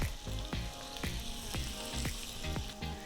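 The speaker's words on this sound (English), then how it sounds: "Hear that sizzle? That's exactly what we want." Pieces of turkey browning in hot oil in a stew pot give a steady close sizzle and crackle with small recurring pops, and no one talks over it.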